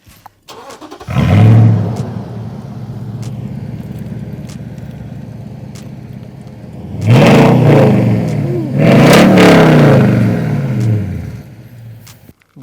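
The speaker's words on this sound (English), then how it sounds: "All right, now it's time to hear the exhaust" Modified exhaust on a Toyota Sequoia idles with a steady low rumble, then roars through two loud, close revs in quick succession before settling back.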